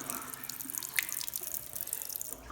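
A tap runs in a campground bathroom, water splashing and dripping into a sink in a steady, fairly quiet stream with a few sharper drip sounds and no one speaking.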